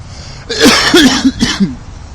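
A close, loud cough in two or three rough, throaty bursts, with a brief throat-clearing quality.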